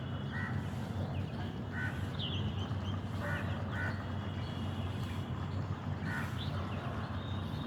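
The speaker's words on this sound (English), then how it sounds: "Crows were fighting." Crows fighting give repeated harsh caws, a few scattered calls over several seconds, moderately distant above a constant dense background hiss and rumble.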